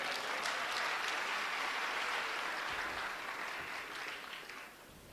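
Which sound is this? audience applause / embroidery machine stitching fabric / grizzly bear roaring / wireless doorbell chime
audience applause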